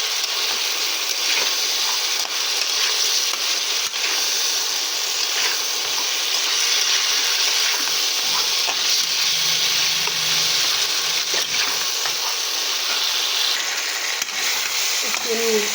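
Fried pointed gourd goes back into hot oil in a pan for an Indian fish curry with potato, giving a steady, close sizzle and frying hiss that never lets up, with occasional stirring clinks.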